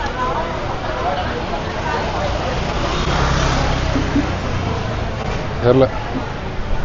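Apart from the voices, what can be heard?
street traffic in Hanoi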